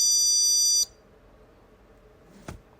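A VOXON door and window alarm sounds a loud, shrill electronic tone for under a second, then cuts off to near silence. A single soft click follows.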